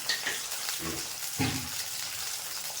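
Whole peeled onions frying in a pan for spinach dal, a steady close sizzle with some stirring scrapes, continuous from start to finish and without talking.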